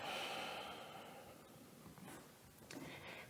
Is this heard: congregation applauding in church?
no